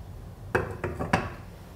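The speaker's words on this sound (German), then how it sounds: "Topf stelle ich schon mal auf die Herdplatte" A cooking pot is set down on an electric stovetop burner: three quick metallic clanks, close and fairly soft, with no talk.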